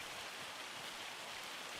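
Heavy rain pours in the video game Farming Simulator 25, as a dense, even hiss of downpour holds steady and fairly quiet throughout.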